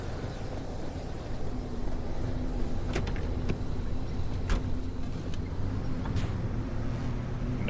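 A car in a video game gives off a steady engine and road rumble with a few sharp clicks and knocks scattered through it. No voices are heard.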